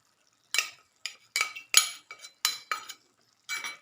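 A spoon stirs a cornflour slurry into a tomato fish curry gravy, producing a series of short scraping and clinking strokes against the pot, about eight in quick irregular rhythm with brief silences between.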